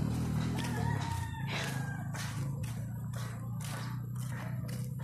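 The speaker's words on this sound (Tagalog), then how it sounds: "Chicken." A rooster crows repeatedly near a house and garden, loud raspy calls in a steady series, with clucking and rustling of other fowl around it and no talking.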